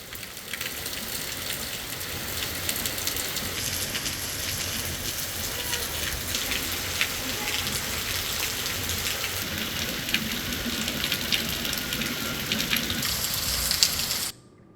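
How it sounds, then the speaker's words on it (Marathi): Heavy rain pouring down in Sambhajinagar district, a dense, loud, unbroken roar of drops hammering surfaces for the full stretch before cutting off abruptly at the end. "संभाजीनगर जिल्ह्यामध्ये जोरदार पावसाला सुरुवात झालेली आहे"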